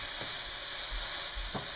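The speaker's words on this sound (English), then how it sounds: "we're going to go ahead and dump the basil in" A sizzling pan of salmon and pasta sauce as basil is tipped in, giving a continuous bright frying hiss with a couple of soft low thumps from the stirring, close and steady.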